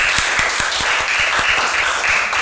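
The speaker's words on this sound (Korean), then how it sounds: "박수하겠습니다." A church congregation claps during a Sunday service for visiting guests, steady rhythmic applause in a reverberant hall, loud and continuous without talk.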